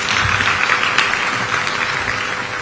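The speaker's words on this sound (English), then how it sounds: "A round of applause." An audience at a Kenyan foreign affairs official event gives a round of applause, a dense, even roar of clapping from many hands, loud and continuous with no talk over it.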